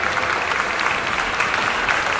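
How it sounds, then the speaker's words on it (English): Steady, dense applause from a crowd at a community music event in New Jersey, even and continuous throughout with no voices over it. "Round of applause."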